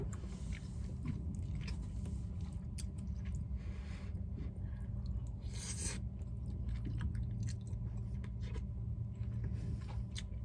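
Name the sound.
chewing while eating cheesy brown rice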